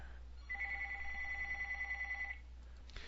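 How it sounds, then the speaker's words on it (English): A telephone rings with an incoming call, a steady electronic ringing tone that starts sharply, sustains for about two seconds in a single long burst, then stops, heard alone against a quiet room hum. "Well, I'm getting a phone call."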